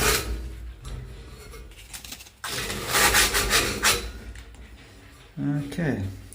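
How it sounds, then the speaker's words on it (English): A hand rubs down the sharp edges of metal parts with repeated scraping, rasping strokes close up, and a voice talks intermittently over it. "Just give it a bit of a rub down."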